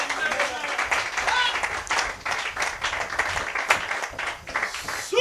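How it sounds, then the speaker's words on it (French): A church congregation applauds the Lord with dense, continuous clapping that rises and dips under voices calling out and speaking. "Donnez une main d'acclamation au Seigneur"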